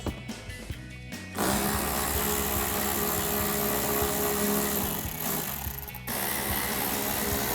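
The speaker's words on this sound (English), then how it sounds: "remove our three remaining 8mm bolts" A power ratchet whirs steadily and loudly for several seconds, pausing briefly, while removing 8mm bolts from the mud flap and fender liner of a RAM 2500 truck.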